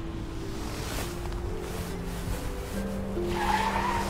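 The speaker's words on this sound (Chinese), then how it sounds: "大半夜的怎么还堵上了？ 这刹车踩的。" A car brakes hard and its tires skid in an audio drama scene, giving a sustained screeching squeal over engine rumble that swells toward the end.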